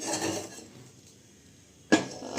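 A pressure cooker set down on a stove in a home kitchen while making steamed eggs, heard as a single sharp metallic clunk after quiet rustling.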